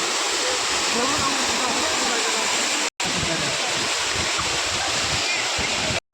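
Savatsada waterfall near Chiplun roars in a steady, dense rush of falling water, loud and close, broken only by two brief cuts to silence.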